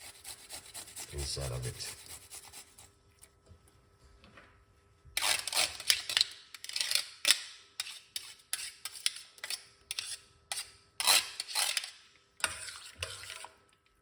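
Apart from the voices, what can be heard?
grating garlic cloves on a grater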